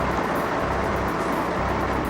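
A stolen piece of construction equipment runs with a steady, loud engine roar as it starts and is driven away, the continuous mechanical drone filling the whole stretch without pause.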